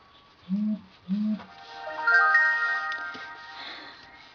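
Two short low beeps come first, then a brighter electronic phone tone rises and rings out briefly before fading, heard fairly close and moderately loud.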